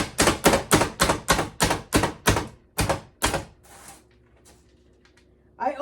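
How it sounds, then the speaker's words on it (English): Candy canes chopped in a hand-pressed food chopper: about ten sharp, crunchy chops in a steady rhythm, then a few faint rattles of broken pieces settling before quiet. "I always struggle with chopping candy canes."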